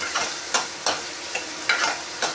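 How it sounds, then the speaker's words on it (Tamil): Potato fry being stirred in a pan, with a spatula scraping and knocking about six times at a roughly steady pace over a low background sizzle, close up and with no voices. "இதை நல்லா கிளறிட்டு கொஞ்ச நேரம் மூடி வச்சுருவோம்"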